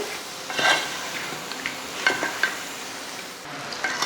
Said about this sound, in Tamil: நம்ம பொறிச்சு வச்ச சிக்கனையும் இதில் சேர்த்துடலாம் சேர்த்துட்டு இது நல்லா வதங்கட்டும்